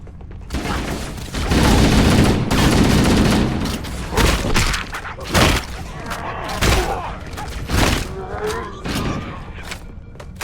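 Gunfire crackles through Halo: Combat Evolved aboard the Pillar of Autumn, with dense bursts of shots, thuds and booms. Some shots come in quick volleys and others are spaced apart, while voices shout over the loud firefight.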